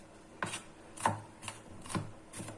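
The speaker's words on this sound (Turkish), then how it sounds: "Hepsini bu şekilde doğruyoruz." A knife chops onions on a cutting board in a kitchen, five sharp knocks at an irregular pace, close and soft, with no one speaking.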